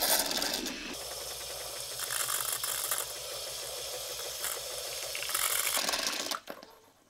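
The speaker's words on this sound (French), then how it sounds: "on va simplement faire circuler de l'eau chaude à l'intérieur pour nettoyer l'ensemble du tuyau et des circuits" A Melitta Caffeo Solo espresso machine flushes hot water through its milk pipe, a steady gurgling hiss with a low mechanical pump hum, running for several seconds before cutting off.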